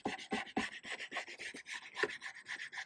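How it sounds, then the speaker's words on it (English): Old veneer being scraped off a vintage telephone chair, a steady series of close, raspy strokes repeating in an even back-and-forth rhythm. "Scrape it on there. Get down deep."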